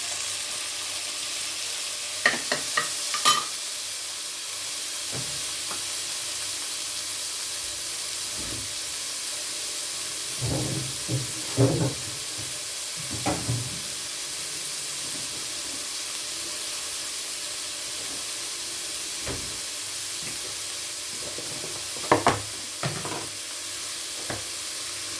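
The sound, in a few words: tomatoes frying and being stirred in a pot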